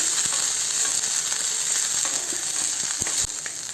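Garlic frying in a pan with green chillies nearby, a loud continuous close sizzle with occasional sharp pops and faint stirring clicks throughout.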